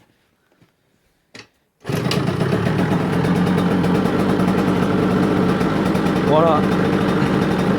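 An MVT DD moped engine starts after a brief silence and settles into a steady, continuous idle that sits slightly high, loud and close, with a spoken word just before it fires.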